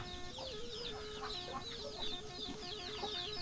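Farmyard fowl, including a rooster, clucking repeatedly at moderate distance over a steady background hum, with overlapping bird calls throughout.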